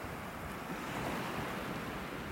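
Ocean surf rolling onto a Gulf beach at Delnor-Wiggins in North Naples, Florida, a steady broadband wash of waves under wind noise, continuous and fairly close with no voices.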